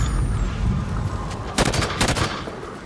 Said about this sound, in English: What I'm trying to do is really weaken that guy with the Hydra launcher.